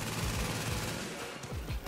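SMG fire in the Amhersts Apartment video game: a rapid run of gunshots in quick succession, steady and fairly loud against a dense, noisy background.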